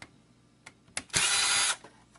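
A power screwdriver backs screws out of an Xbox 360 circuit board, a few short clicks, then a half-second burst of high whirring, followed by faint taps, close and alone.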